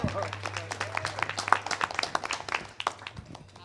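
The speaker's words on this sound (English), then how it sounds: "I personally think that 41 years deserves a round of applause, so I'm going to do it." Round of applause at a club meeting, a steady patter of many hands clapping for several seconds, with voices chattering underneath.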